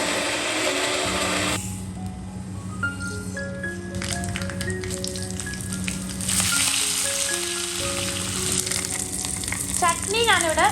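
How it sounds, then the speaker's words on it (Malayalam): Tempering spices crackle and sizzle in hot oil for a coconut chutney, a steady frying hiss with sharp pops, mixed with background music tones throughout. "വറവിട്ടടിച്ചിട്ടുണ്ട്"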